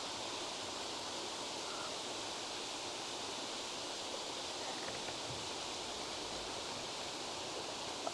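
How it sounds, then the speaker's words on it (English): A small waterfall beside a lake near the College of the Ozarks pours steadily, a soft continuous rushing wash with no breaks. "A little waterfall here."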